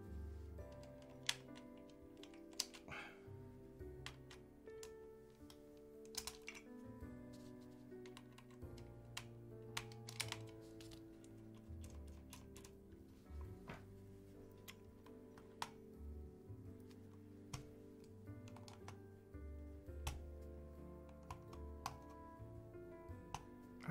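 Keys are typed on a custom mechanical keyboard built with a Taeha Types case and KBDfans Laser switches, giving a steady run of soft, close clacks with occasional louder strikes and no speech.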